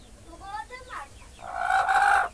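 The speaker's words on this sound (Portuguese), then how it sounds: "Aqui tem uma galinha aqui, pessoal." A free-range hen sitting on eggs gives a few short clucks, then a longer, louder drawn-out call, heard close up over a quiet farmyard background.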